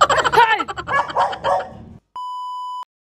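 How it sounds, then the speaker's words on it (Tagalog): Several dogs bark noisily at close range in a rapid, overlapping burst for about two seconds, followed by a brief silence and then a steady electronic censor beep. "ang ingay naman ng mga aso naman na yan!"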